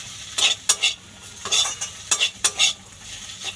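Beto greens frying in a pan are stirred in a run of sharp scraping strokes, each spatula pass rising and falling in quick uneven bursts over a low sizzle, close by with no voices.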